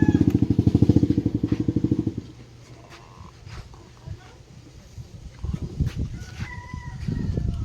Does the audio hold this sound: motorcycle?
yes